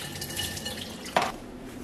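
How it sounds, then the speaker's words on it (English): Hot water runs from the dispenser of a Breville Barista Pro espresso machine, a short close hiss and splash that rises sharply for a moment and then steadies, heard alone. "Now I'm going to turn to here for the hot water."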